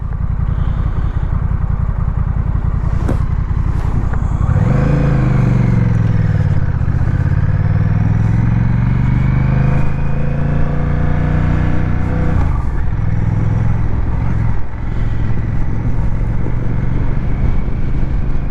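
Honda Rebel motorcycle on a test ride: a loud, steady engine drone under rushing wind, revving up with rising pitch, easing off, then climbing again after a gear change.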